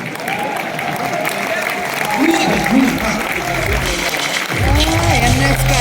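An audience at an Enagic sixth-anniversary gathering applauds as a continuous patter, while someone speaks loudly over the clapping.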